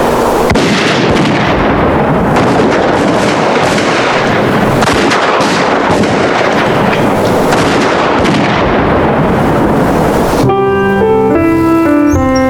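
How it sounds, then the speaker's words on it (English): Buffalo hunters firing rifles on the open plains: loud, dense, overlapping volleys of shots and booms for about ten seconds, then music takes over. "Some stopped shooting just long enough to cool their overheated rifle barrels with canteens of water."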